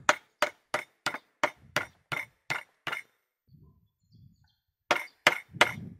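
Sharp metallic hammer blows flatten a hard bicycle shoe sole in a steady rhythm, about nine in a row, a pause with faint soft knocks, then three more hits close by.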